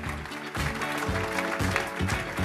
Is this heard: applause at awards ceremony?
yes